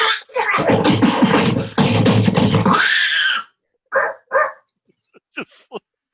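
A voice imitates a barking dog in a burst of loud, raspy growling barks, then trails off into a few short, sharp yips and sounds.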